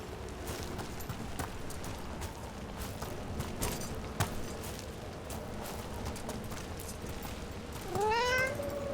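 A cat meows once near the end in the video game Dragon Age The Veilguard, a rising, harmonic call that stands out clearly over a steady bed of game ambience and soft footsteps.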